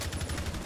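Rapid automatic gunfire in Rainbow Six Siege rattles in a quick, dense burst of shots, fairly muffled and brief.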